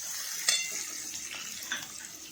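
Onions sautéing in oil in a pan over a medium gas flame, a steady close sizzle with a couple of soft stirring scrapes against the pan.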